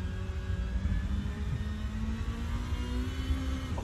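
A racing car engine in Assetto Corsa hums and revs steadily at moderate distance, a synthetic-sounding drone with slowly rising pitch, faint overall, no voices.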